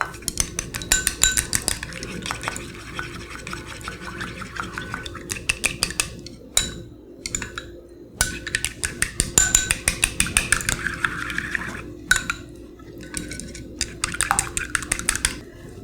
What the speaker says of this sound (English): So you break the eggs. And mix it together.